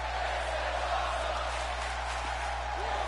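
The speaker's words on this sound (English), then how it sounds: "The crowd is going nuts here tonight." Loud, steady crowd roar from a WWE 2K20 wrestling match at Survivor Series, sustained broadband cheering that fills the whole stretch without breaks, with faint low arena hum beneath.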